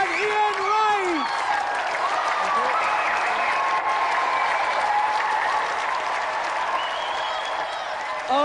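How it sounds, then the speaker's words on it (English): An audience applauds steadily and loudly, with a dense wash of clapping and some cheering. A voice is heard near the start over the clapping. "another round of applause for Tammy and Mead and Ian Wright."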